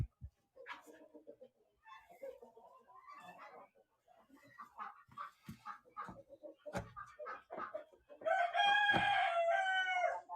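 Roosters crowing loudly near the end, a bright harmonic cock-a-doodle-doo after a stretch of clucking and scattered farmyard bird calls, among five newly arrived roosters.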